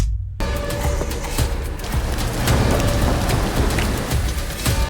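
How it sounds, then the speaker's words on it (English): Heavy rain hisses steadily after a brief silent opening, with a low thunder rumble beneath it. The rain is part of a sound redesign for a Silent Hill 2 trailer. "And then I really like our rain sound."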